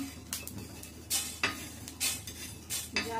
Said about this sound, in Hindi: फटाफट से हम इसे भून के निकाल लेंगे दोस्तों